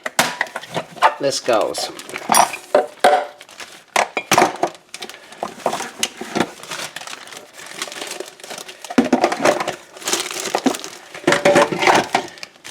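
Crunchy, crackling grinding of dry garden material destined for a baggie, in irregular bursts with brief pauses, close and fairly loud, with a few spoken words.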